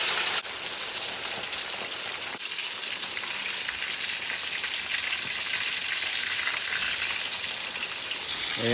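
Tilapia and pompano fish frying in hot oil give a loud, steady, dense sizzle with crackling pops running the whole time, close and constant with no talking.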